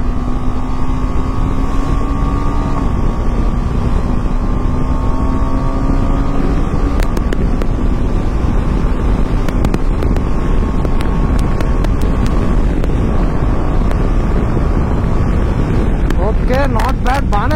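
A KTM Adventure 390 motorcycle cruises at speed, its engine holding a steady droning tone beneath constant heavy wind buffeting, with a brief rise in pitch partway through.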